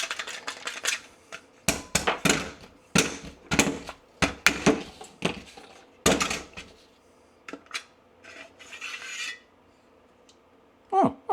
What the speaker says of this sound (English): I hear something rattling around.